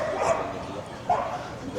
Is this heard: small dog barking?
yes